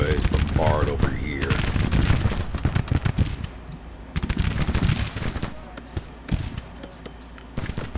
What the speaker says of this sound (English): Let's have you boys bombard over here.